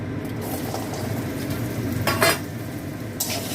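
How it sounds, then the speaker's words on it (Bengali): Potatoes fry in white oil in a pan with a dense, continuous sizzle close by, punctuated by brief scraping stirs and utensil contact; no talking. "দিয়ে এই আলুটা ভেজে নেব।"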